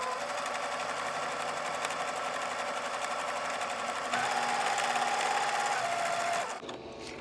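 Sewing machine chain piecing quilt block fabric, a steady close whirring stitch that runs continuously, rises slightly in pitch near the end, then stops abruptly.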